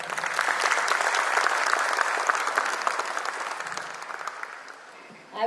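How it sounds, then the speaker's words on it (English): Warm applause rolls through the audience at an ESG conclave, steady clapping of many hands that tapers off after about five seconds before a voice starts speaking. "May we please have a warm round of applause."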